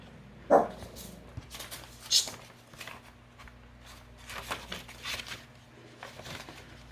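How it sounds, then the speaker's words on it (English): Chihuahuas barking and whimpering indoors during a craft session, a sharp yelp near the start and another around two seconds, then softer scattered whines and shuffling at low level. "So sorry about that. I have chihuahuas, y'all."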